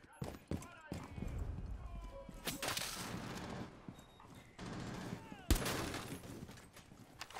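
Gunfire in Rainbow Six Siege rings out in sharp bursts and single shots, with footsteps and movement in between, while players talk over the action.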